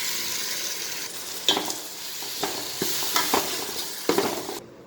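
Tomatoes frying in hot oil with chili powder for a fish sambar, a soft continuous sizzle broken by several sharp scraping stirs of a spoon against the pan.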